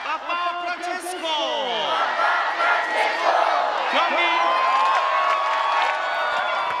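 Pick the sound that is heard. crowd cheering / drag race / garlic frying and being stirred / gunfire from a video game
crowd cheering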